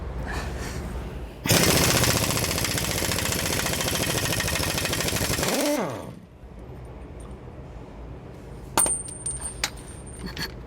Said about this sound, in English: you may need an air wrench to get them off